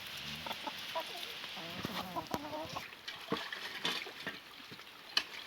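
Chickens cluck softly and intermittently close by, with a few brief louder squawks over a steady outdoor background.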